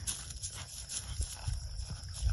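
Hooves of a horse being trotted out during western jog training, a soft irregular thudding of footfalls on ground, moderately close and fairly quiet, with no talking.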